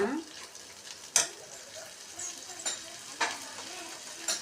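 Burmese-style prawns being stirred in a frying pan, with a soft background sizzle and scattered sharp scrapes and clinks of the utensil against the pan at uneven intervals.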